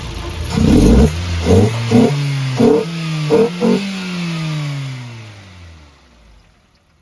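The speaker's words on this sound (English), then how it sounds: "I'm not gonna rev it anymore because you know we're on an apartment compound and people get a little crazy when they hear this car." A Nissan Sunny B15 car engine is revved in a series of short, sharp throttle blips close by, each rising then dropping, before the engine settles back and fades toward a quiet idle.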